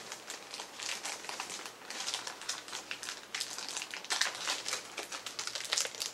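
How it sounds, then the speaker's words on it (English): Plastic shrink wrap being peeled off a vinyl record, close crinkling and crackling that comes in irregular bursts for several seconds, with no talking over it. "So I'll take off the plastic."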